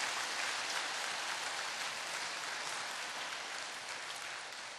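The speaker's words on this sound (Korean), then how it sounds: "우리 내년도 또 수고해달라고 격려의 박수를 좀 보내주시길 바랍니다." Steady, dense applause from a church congregation at a Wednesday joint cell-group meeting, sustained and fairly loud throughout with no talking over it.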